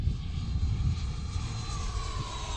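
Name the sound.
model airplane flying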